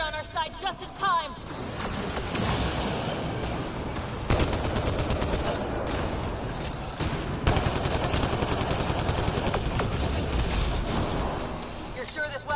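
A turret in a PS4 video game fires continuously, a dense crackle of rapid gunfire layered under voices and other game sounds throughout.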